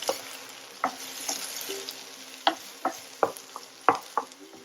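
Two small onions sizzle in a pan, a steady crackling fry broken by a series of scraping, knocking stirs from a spoon against the pan at an uneven rhythm.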